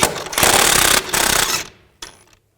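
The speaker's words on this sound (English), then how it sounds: "Take a 17mm socket while holding the pliers and take this nut off." A ratchet on a 17mm socket spins off a sway bar link nut on a 2007-2012 Nissan Altima, giving two rapid clicking bursts close up and then a brief final rattle.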